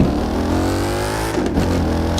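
Ford Mustang engine in The Crew 2 video game, droning at high revs with a buzzy, motorcycle-like tone, loud and steady with a brief dip as it shifts gear.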